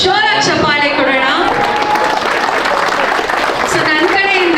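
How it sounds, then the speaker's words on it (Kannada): Guests applaud the couples at a golden jubilee wedding anniversary celebration. The clapping is loud and continuous, mixed with voices and chatter throughout. "ಈ ಎಲ್ಲ ಲವ್ಲಿ ಕಪಲ್ಸ್ಗೆ ಎಲ್ಲರೂ ಜೋರಾಗಿ ಚಪ್ಪಾಳೆ ಕೊಡೋಣ"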